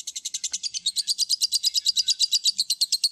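Lovebirds in a breeding cage give a fast, steady run of high chirps, close and continuous, with no other sound around them.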